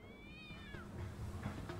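A cat meows in the VirtuaVerse video game, giving one clear, drawn-out meow with a falling pitch. Faint game sounds run underneath, and there is no talk.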